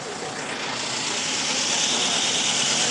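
Chevy Malibu engine running very rough after a used replacement ECM was programmed, a loud, steady, coarse roar with no break, and no one speaking.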